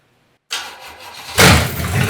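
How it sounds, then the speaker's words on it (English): A junk carbureted car engine cranks and catches after a moment of silence, then bursts into a loud, rough, rising roar at close range. "We'll run some fuel line up to this carburetor real quick and see if it'll run."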